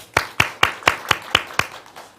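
Seven slow, evenly spaced hand claps, sharp and close, at the opening of a startup lecture, each one distinct with brief silence between, no talking.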